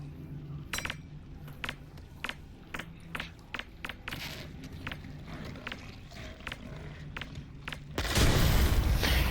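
A grenade blows up in Half-Life: Alyx, arriving as a loud, dense burst near the end after a stretch of quiet clicks and clinks of handling gear.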